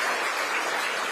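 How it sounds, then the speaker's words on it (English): A brief burst of dense audience clapping at a Kenyan diaspora engagement event in Doha, steady and fairly loud throughout. "Can you clap for them on behalf"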